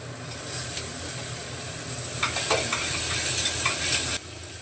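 Onion and tomato sautéing in a pan, a steady close sizzle overlaid with scraping stir strokes that thicken midway and then cut off abruptly near the end; no one talks.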